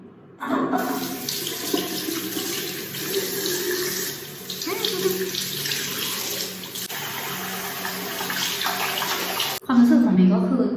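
A bathroom faucet runs steadily while someone washes their face, with splashing and the hiss of water going on continuously, then a louder burst of water near the end.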